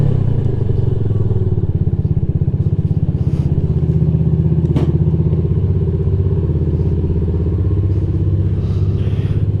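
Lifan KP Mini 150 motorcycle being ridden, its small engine droning loud and steady close to the mic with a rapid pulsing beat, plus occasional clatter and thumps.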